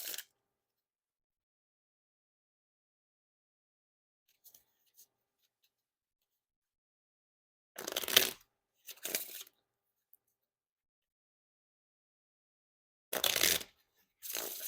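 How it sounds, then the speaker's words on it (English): Orbit Seventh Edition playing cards riffled and bridged in a few short, crisp bursts with long silent gaps between them, each flurry of card edges quick and fairly close. "my Riffle Shuffles and Bridge Shuffles are not like the smoothest"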